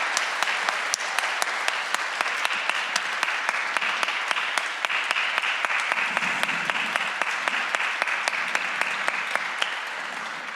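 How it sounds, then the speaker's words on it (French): Dense, sustained clapping from a large audience at a literature and poetry festival, honouring the festival team. It runs steadily and evenly for about ten seconds, with no voices over it. "j'aimerais vraiment qu'on les applaudisse parce qu'ils sont extraordinaires"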